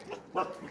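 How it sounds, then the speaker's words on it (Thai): A dog at a Thai temple museum lets out a single short bark near 0.4 s, sharp but fairly faint, between quieter yips. "มาเห่าผมซะแล้ว"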